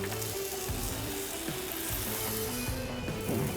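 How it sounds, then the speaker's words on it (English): Scallops sear and sizzle on a hot Blackstone griddle at about 485 degrees, a steady close crackling hiss with small pops running throughout. "when I put the scallops down on the griddle is we get that really good searing sound"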